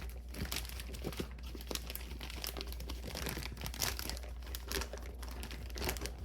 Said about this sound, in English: I have a gallon-sized Ziploc bag.